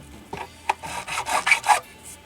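Several rasping file strokes work the crowns of the frets on a Hamer Slammer electric guitar, each scrape swelling and fading in an uneven back-and-forth rhythm, close and alone.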